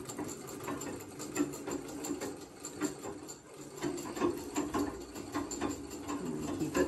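An Elgin treadle sewing machine runs continuously, its needle chattering in a rapid, steady mechanical rhythm under the foot-driven treadle. The sound is close and moderately loud, with no talking.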